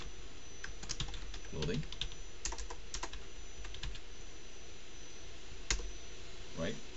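Computer keyboard typing while entering text into a spreadsheet cell, heard as scattered light key clicks in short bursts under a steady hum, with a voice talking faintly over it.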